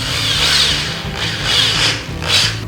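A large drill bit bores into a wooden DIY handrail, a loud grinding, rubbing whir that rises and falls in three pushes with a steady motor hum underneath.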